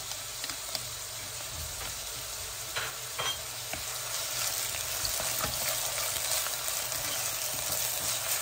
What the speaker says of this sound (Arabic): انا جبت هنا الزيت سخنته، هنزل عليه بالبصلة